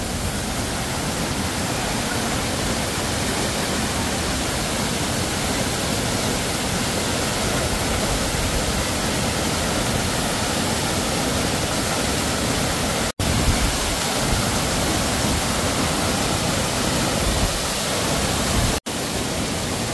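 A powerful waterfall roars close by in a dense, unbroken wash of noise that stays loud and even for the whole stretch, cut by two brief dropouts.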